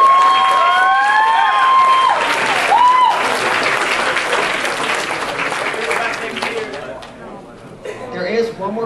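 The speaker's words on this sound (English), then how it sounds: "we owe all of them a round of applause" Audience applause at a convention costume contest, a loud burst of many hands clapping with some cheering, with whistles at the start, slowly tapering off.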